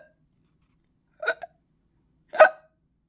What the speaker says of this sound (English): I have the hiccups and they won't stop.